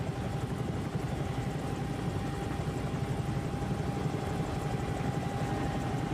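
A Bell 222 helicopter hovers in a flight simulator game, giving a steady, dense rotor and turbine drone with a thin whine held at one pitch throughout, loud and unbroken, with no talk.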